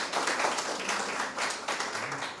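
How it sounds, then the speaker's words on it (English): Audience at a school debate competition clapping steadily for a presenter, a dense, continuous patter of many hands filling the room for a couple of seconds. "Another round of applause for our second presenter from the Dominica State College."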